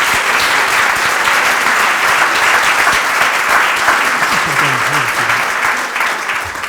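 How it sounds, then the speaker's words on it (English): Audience applause for a former US ambassador to Ukraine after a talk, with loud, dense, sustained clapping filling the room and a faint voice briefly audible beneath it near the end. "Let's give him a round of applause."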